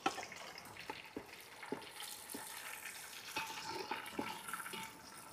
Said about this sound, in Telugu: ఫ్రెండ్స్ ఇప్పుడు మనము తగ్గినంత వాటర్ అయితే వేసుకుందాము